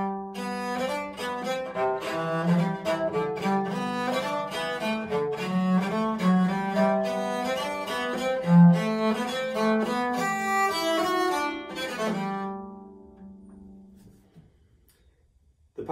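Bass viol, a viola da gamba, plays a Renaissance song in a sustained, resonant melody with a low bowed line, steady for about twelve seconds before fading into quiet; solo instrument, no talking.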